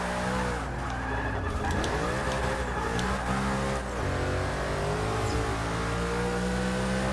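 A bagged Gas Monkey Garage Ford GT drifts in Forza Motorsport 6, its engine roaring steadily while the tires skid and squeal, loud and continuous throughout.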